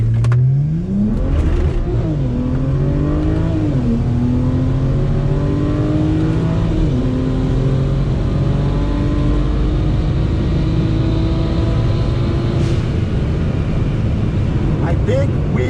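A turbocharged car accelerates hard through the gears up to the top of fourth, its engine note climbing loud and close in rising sweeps with brief shift dips, over continuous road and wind roar.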